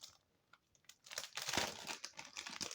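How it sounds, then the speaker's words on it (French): A greeting card is unwrapped from paper packaging. Quiet handling at first gives way to loud, close crinkling and rustling of paper that continues to the end. "Alors, je vais vous la déballer."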